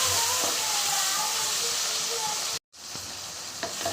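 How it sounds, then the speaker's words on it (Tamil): Curry leaves, chilli and a tomato sauté in a pan as the base for a chicken gravy, producing a steady close sizzle with a brief cut near the end. "கருவேப்பிலை போட்டுக்கலாம் கொஞ்சம் மிளகாயும் ஒரு தக்காளி நல்லா வதக்கிடலாம்"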